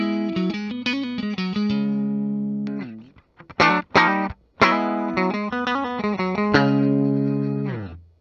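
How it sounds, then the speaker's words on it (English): Clean electric guitar notes and chords from the single-coil neck pickup of a Gibson Les Paul ring out warm and round, played in short phrases with a few brief pauses between them. "That's a really thick, almost humbucker-esque sounding single coil."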